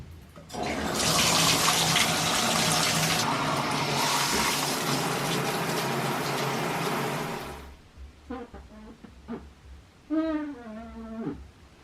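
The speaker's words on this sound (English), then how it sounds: "I think we are ready to get into the shower." Shower water runs steadily as a broad, loud hiss in a home bathroom for about seven seconds, then stops, followed by a few brief squeaks and clinks.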